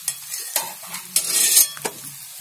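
A spoon scrapes and stirs fried okra masala in a pan, with several distinct scraping strokes over a soft sizzle as the bhendi is lifted out; no talking.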